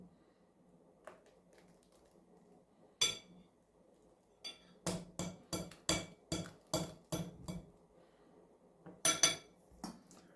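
A utensil clinks and scrapes against a bowl in a quick run of sharp knocks, close up, with pauses between bursts, mixing ingredients for spicy Turkish ezme.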